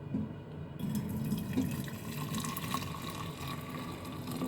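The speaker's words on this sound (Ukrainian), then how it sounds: "вода закипіла, виливаю в трьохлітрову банку" Boiling water pours steadily into a three-litre glass jar, a close, continuous gurgling flow with faint splashes and drips throughout.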